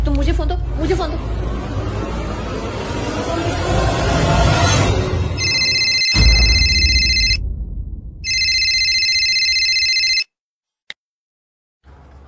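A mobile phone rings loudly in repeated electronic bursts with a pause between them, after talk and clatter in a home, then stops abruptly.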